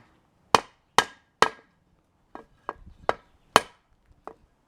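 A thin W2 steel gyuto knife chops down onto a board in eight sharp, separate knocks, the first three loudest and evenly spaced, the later ones lighter and more irregular, close and without talk.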